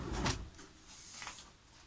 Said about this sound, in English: The pull-out section is supported by no less than 6 drawer slides